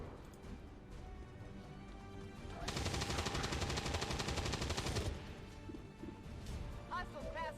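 A sustained burst of heavy automatic gunfire roars for a couple of seconds in XCOM 2: War of the Chosen, rising out of quieter battlefield ambience with voices nearby.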